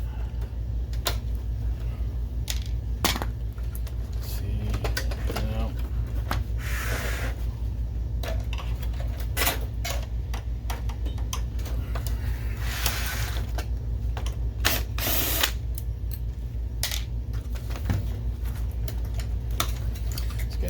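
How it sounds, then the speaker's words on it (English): Small plastic clicks and ticks from a rivet being pried out of the fan mechanism inside an Eiki LC-HDT700 LCD projector, scattered taps and snaps close by over a steady low hum, no talking. "Let's get this rivet out. This plastic rivet."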